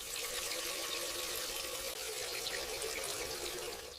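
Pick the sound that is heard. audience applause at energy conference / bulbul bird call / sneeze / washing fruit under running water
washing fruit under running water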